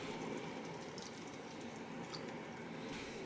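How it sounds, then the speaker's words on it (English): Teriyaki sauce poured into a hot pan of pan-fried chicken makes a quiet, steady liquid pouring and trickling sound with a faint wet sizzle, heard alone. "Pour the sauce in"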